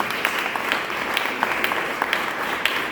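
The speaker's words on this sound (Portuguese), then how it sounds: "Um aplauso para as mães, porque elas merecem." A church congregation applauding steadily, dense clapping filling the whole stretch at a fairly loud, even level.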